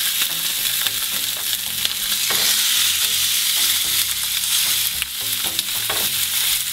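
Chicken breast frying in a hot pan, a loud continuous sizzle and crackle of oil heard close up with faint stirring, no voices.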